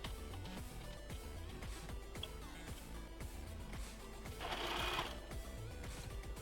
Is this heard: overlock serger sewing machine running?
yes